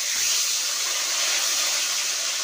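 Fish fries in hot oil on its second side after being flipped, giving a steady, even sizzling hiss close by with no talk over it.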